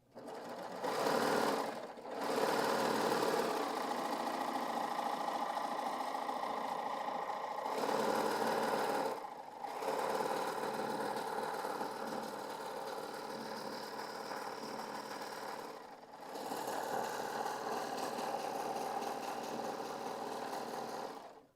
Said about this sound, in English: And let's serge this.